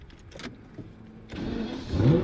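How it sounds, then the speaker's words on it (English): A car engine is started with the key in the ignition: a few soft clicks and fumbling first, then the starter catches and the engine fires, rising into a close, steady idle with a low rumble. "I should probably put the key in the ignition."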